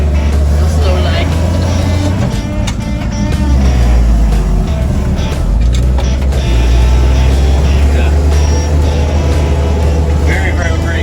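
A 1955 GMC truck with a fault in its fuel lines pulls slowly in first gear, its loud, steady low engine drone and cab rumble running throughout while people talk over it.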